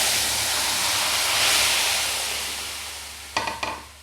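Fish curry pieces of baan eel go into very hot spattering oil with a loud, continuous hiss that swells and fades, then two sharp clatters of the pan near the end.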